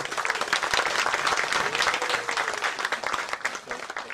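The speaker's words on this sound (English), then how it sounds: "So I ask you for a big round of applause for her." Applause from a large audience at a talk on the Synod for the Amazon: dense, even clapping that swells to full strength and then thins toward the end, with no voices over it.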